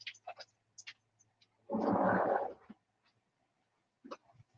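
A pet dog indoors lets out one drawn-out bark, loud and close, set between brief faint noises in an otherwise quiet room.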